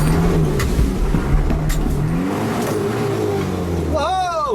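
A 4x4 truck engine revs hard and accelerates up a slippery back-country hill ridge, a loud, continuous roar under voices, rising in pitch near the end as the engine climbs.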